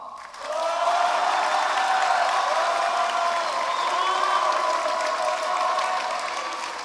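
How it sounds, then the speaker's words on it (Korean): Students at a Catholic high school festival eve gathering clap and shout together, a sustained, loud crowd roar of applause and cheering that holds steady for several seconds. "이렇게 박수치는 이들과 소리 지르는 이 모든 친구들에게"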